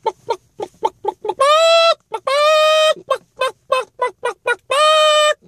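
A chicken clucks in quick, choppy bursts broken by three long, loud, drawn-out squawks, close and prominent with no talk over it.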